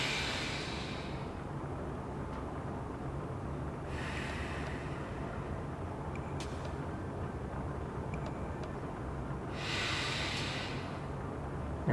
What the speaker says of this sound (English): breathing in deep, and then a little bit more, and then breathing out deep